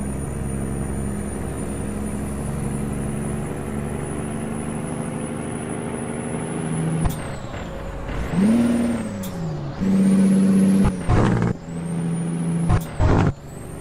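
A Kenworth K200 truck idles with a steady low diesel drone, then revs unevenly through rising and falling engine pitch, cut by several sharp, loud air brake hisses.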